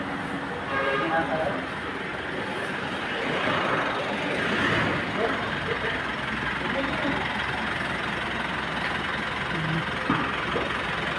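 A car engine, a 1.8 running after a fuel problem fix, idles with a steady low rumble and faint knocking while people talk over it nearby.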